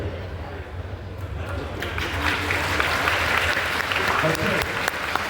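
A convention hall audience at a William Shatner Q&A breaks into applause. The clapping swells from a low murmur to a steady, dense wash and stays loud to the end, with a low hum underneath.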